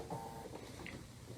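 A sewing machine with a walking foot stitching quilted place mats, a brief, faint mechanical whir heard alone.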